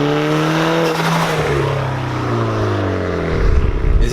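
A modified VW GTI MK6 with an APR flash tune holds its revs on two-step launch control, a loud, steady engine drone that wavers and dips before a rougher burst at the end.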